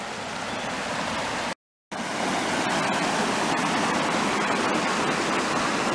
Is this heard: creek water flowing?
yes